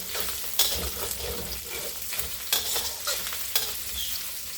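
Roasted pork is reheated in a pan, with a steady close sizzle of frying under repeated sharp scrapes and clacks of a utensil stirring the meat at irregular intervals.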